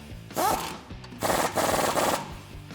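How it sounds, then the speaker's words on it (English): Ratcheting tightening of a tie rod end nut on a 2004-2013 Ford F-150 front end with a 21 mm deep socket during a leveling kit install: close, dense bursts of clicking and rasping metal, one short run then a longer stretch with brief pauses. "Switching over to a 21 deep to tighten up our tie rod end."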